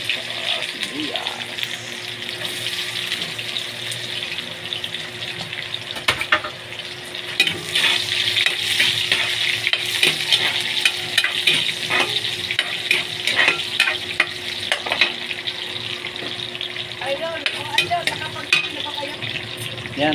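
Garlic and onion sauté in a pan for a pork liempo barbecue sauce, a steady bright sizzle with frequent stirring scrapes running throughout, close and fairly loud.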